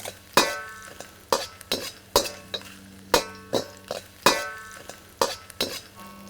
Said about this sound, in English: The ginger root, and then the chilies. And I'm just gonna slowly start to roast these chilies.